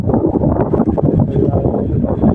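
Strong wind buffets the microphone outdoors by the sea near an abandoned house, a loud, continuous rumbling roar with gusty fluctuations throughout.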